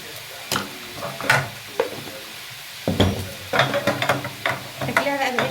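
Onion and pepper fry in a pan while being stirred, with soft sizzling under repeated scraping and clattering strokes of the spoon against the pot, close and moderately loud, with brief quiet speech in places.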